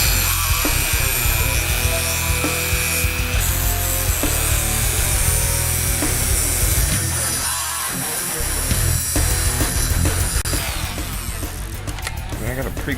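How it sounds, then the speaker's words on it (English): A Dremel rotary tool trims an excess part on an SSR189 dirt bike being converted into a street-legal supermoto, giving a continuous close grinding whine with shifting pitch as the cut proceeds. "I'm gonna like trim this off. Got the trusty old Dremel"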